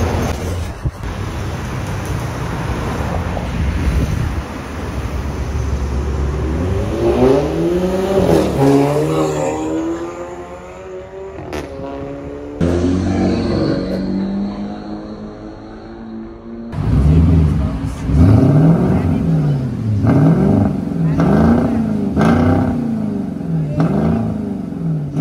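A car revs and accelerates hard away from a gas station forecourt, engine pitch sweeping up repeatedly through gears, loud and close, with steady road and traffic noise underneath.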